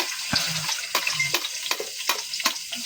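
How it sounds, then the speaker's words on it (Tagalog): Garlic is dropped into hot oil in a pan while cooking sinagul na isda, giving a close, steady frying sizzle broken by repeated sharp spoon scrapes and taps, with no talk. "Ilalagay ko na itong ating mga ricado. At syempre, unahin natin yung bawang."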